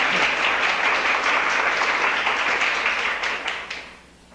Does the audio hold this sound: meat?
no